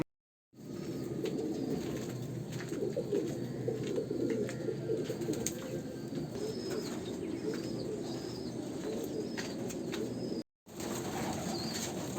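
Breeding pigeons released from a loft holding over 300 birds burst into flight, a dense, continuous flurry of flapping wings with scattered coos and chirps, fairly close, cut by a brief dropout near the end.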